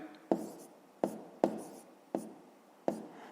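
Pen or pencil writing numbers by hand on paper for a fifth-grade math exercise: six crisp, close scratching strokes, each a sharp attack that fades, spaced irregularly over a quiet background.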